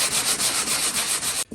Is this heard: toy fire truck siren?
no